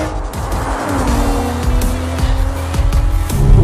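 A 2017 Audi RS5 launches hard from a standstill, its engine roaring up through the revs with rhythmic gear-shift pulses while tires squeal loudly, growing louder toward the end.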